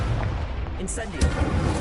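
The Incendio fire spell is cast in a wizard video game, a booming burst with crackling flare heard under a voice shouting the spell name.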